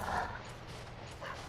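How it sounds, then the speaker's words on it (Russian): An angry dog creature growls and barks in Dark Souls 3, Ashes of Ariandel, a couple of short muffled barks over a dense, noisy game soundscape. "Так, собакин там негодует."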